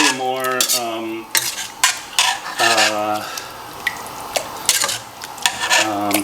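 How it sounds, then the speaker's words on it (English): Sliced olives are stirred into a pan of penne with a utensil, giving repeated scraping and clinking strokes against the cookware in bursts of varying loudness, close up and with a faint sizzle underneath. "I'm just going to stir these olives in"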